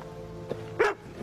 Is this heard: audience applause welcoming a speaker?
no